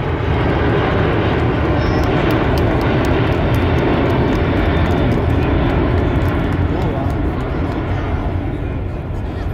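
An Airbus A380 airliner flies a demonstration pass, a loud, steady broadband engine roar filling the whole stretch with no breaks.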